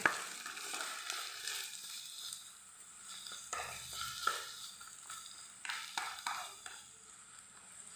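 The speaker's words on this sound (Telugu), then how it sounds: "ఆనియన్ పచ్చిమిర్చి కరివేపాకు కూడా వేసుకోవాలి ఆయిల్లో ఆయిల్ వేసాక కొంచెం వేయించుకోవాలి" Onion, green chilli and curry leaves fry in heated oil with a soft, steady sizzle and crackle, punctuated by a few light stirring taps and scrapes; fairly quiet overall.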